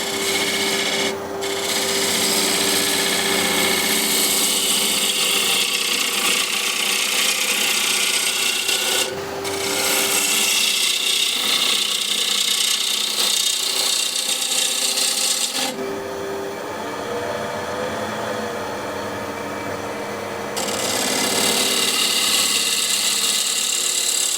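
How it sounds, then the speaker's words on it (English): Hand tool shaving a wooden workpiece with long, steady rasping strokes, close and continuous, broken by brief pauses between passes. "now I can just make nice shear cut here"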